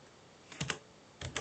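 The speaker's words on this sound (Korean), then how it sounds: "여기 엔터 치고" Two distinct key presses on a computer keyboard, each a sharp double click, spaced under a second apart against quiet room tone, alone with no talking.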